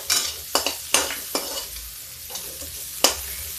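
Onions frying in a pan for kadhi, a soft sizzle broken by several sharp scrapes and taps of a spoon stirring against the pan, close and unaccompanied by speech.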